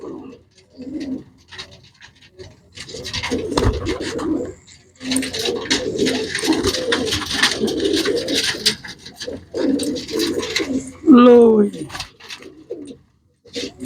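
Large pigeons cooing repeatedly up close, soft rolling coos mixed with wing scratches and shuffling, with someone talking over them through much of the stretch.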